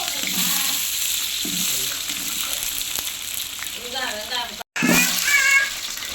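A large pot of onions fries for biryani, hissing steadily while a spoon scrapes and stirs through them. A voice is heard briefly near the end.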